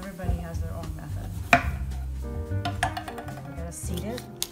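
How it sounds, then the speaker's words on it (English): A knife chops an organic bell pepper on a cutting board while pita pizzas are being made, giving scattered sharp taps and light clinks close by, with a voice talking over them. "Next, I'm gonna chop up an organic bell pepper."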